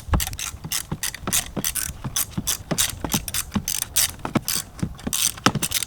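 A ratchet loosens the screws on a BMW fuel pump, giving rapid, loud clicking bursts in repeated strokes, close up and with no speech.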